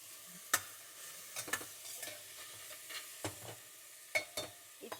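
A spoon stirs a mixture of diet food ingredients, producing sparse, quiet scrapes and clinks at irregular intervals against a near-silent background, with no talking.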